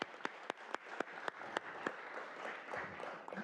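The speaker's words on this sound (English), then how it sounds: "join me in giving a round of applause for incredibly hard and great work" A round of applause from an audience at a formal meeting at the Vatican, moderate clapping with several distinct nearer claps punctuating a soft, continuous patter.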